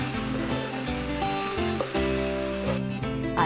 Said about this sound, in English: Always stir your curry leaves so that the flavor is infused into the dish.